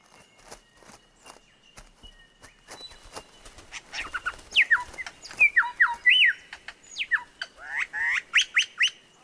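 A male lyrebird, a pheasant-sized Australian songbird and one of the world's largest, gives loud, rapid whistled and squawking calls with sharp downward sweeps, building from scattered clicks into a dense burst over the last half.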